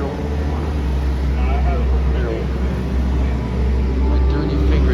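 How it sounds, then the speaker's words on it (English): Loud, steady low engine drone inside a haunted attraction ride, a continuous rumble that fills the space, with voices talking over it. "The engine here is very loud."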